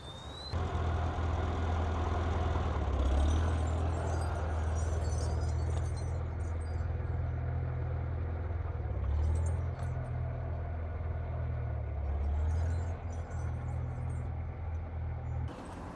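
A tractor engine idles steadily while the tractor is positioned in a furrow to set up a plow, giving a continuous low rumbling drone that stays even and fairly close throughout.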